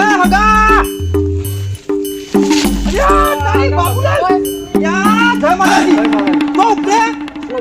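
Cattle on a street mooing loudly and repeatedly in long drawn calls, overlapping with a clanking cowbell and close talk from people nearby.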